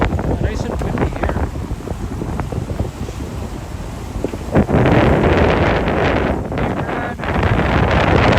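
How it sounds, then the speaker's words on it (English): Strong wind buffets the microphone in loud gusts on a boat cruise by Lake Ontario in Kingston, Ontario, rumbling and roaring, growing heavier partway through, with faint voices underneath. "Oh, nice and windy here."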